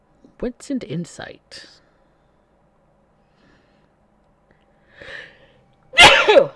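A single loud, sharp sneeze bursts out near the end, following a short stretch of conversation among tabletop role-playing players and a brief quiet pause.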